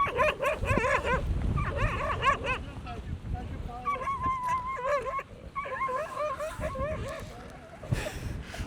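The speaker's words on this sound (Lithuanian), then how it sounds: "Šunį paleido" A dog barks and yelps in quick repeated bursts, several clusters of sharp calls separated by short pauses, fairly close, with some talk in the background.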